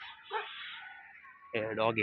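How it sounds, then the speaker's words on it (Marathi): A dog gives a few short whimpering yips and barks close by, with a voice speaking partly over the sounds. "डॉगी बुकतोय, डॉगीला म्हणा बुकू नको"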